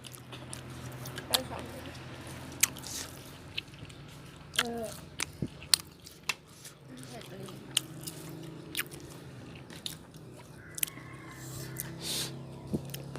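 Someone eating spicy home-grown vegetables, chewing with repeated wet squishing and crunchy bites up close, along with scattered sharp clicks and low background murmur.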